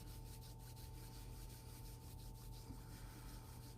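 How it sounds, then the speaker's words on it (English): Palms rub briskly together in a steady, soft swishing rhythm, close and quiet, with no other sound. "So rub your hands together."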